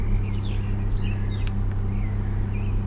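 A 1990 Rover 214 engine idles with a steady low hum, while faint bird chirps come through intermittently in the background.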